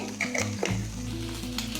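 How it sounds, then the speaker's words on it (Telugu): Okra frying in a pan as a steady, close sizzle that runs continuously for under two seconds, with no voices. "బెండకాయలు వేగిపోయాయి"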